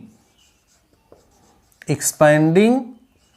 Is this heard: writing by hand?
yes